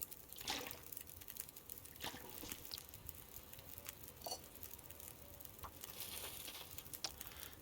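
Water being heated over a fire in The Long Dark gives a faint, soft patter with scattered drips and crackles, quiet and steady, no speech.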